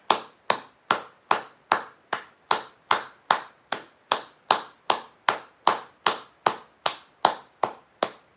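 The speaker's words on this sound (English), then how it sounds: "can we get a round of applause for Big Pizza Pie?" Single hands clapping in a slow, steady rhythm, around twenty evenly spaced sharp claps, close and clear with no crowd behind, offered as a round of applause during a livestream.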